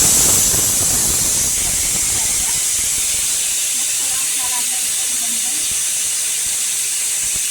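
Chili, plenty of garlic and tomato frying in hot oil, a loud, steady, broad sizzling hiss that fades slightly after the first second and continues evenly, no voices.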